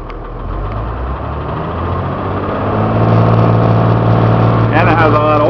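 The diesel engine of a 14 ft Utilimaster FedEx step van rumbles low and steady, then rises in pitch and loudness as it is revved, with someone talking over it near the end.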